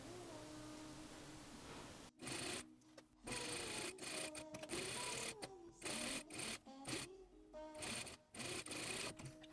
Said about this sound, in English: just sewing along this edge here, encasing the ruffles onto the inside here at 1 centimeter